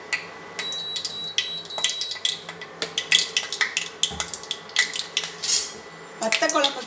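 A kadai set on a stove with sesame oil poured in, heard as a run of sharp metallic clinks, taps and scrapes of cookware close by, with brief pauses between them.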